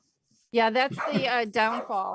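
Small house dog barking and whimpering in short yips close by while a person keeps talking over it.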